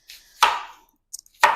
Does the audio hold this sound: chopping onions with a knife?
yes